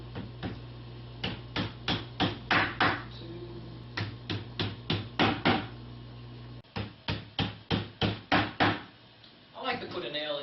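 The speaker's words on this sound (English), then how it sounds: "place the cardboard backing on the sides and hammer them down for added security" Hammer strikes nailing cardboard backing onto a self-assembled five-shelf bookcase, sharp close knocks landing in quick bursts of several blows with short pauses between, and a voice briefly speaking at the end.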